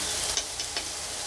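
Onions, garlic and spices for osso buco browning in a pan, giving a soft, steady sizzle with a few faint stirring ticks, heard alone and fairly quiet.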